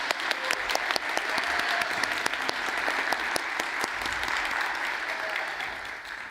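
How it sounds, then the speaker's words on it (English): Sustained applause from a crowd, steady dense clapping that fills the space for several seconds without any talking. "So a round of applause."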